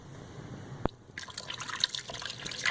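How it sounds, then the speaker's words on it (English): Liquid poured over beef in a crock pot for barbacoa, a steady splashing pour starting with a brief drip and continuing close and fairly loud to the end, with no talking. "Pour that nicely over your beef."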